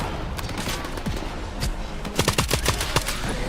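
Rapid hip-fire gunshots in the shooter game S.T.A.L.K.E.R. 2 crack out in uneven bursts over steady background noise, growing denser and louder toward the end, with no clear talking.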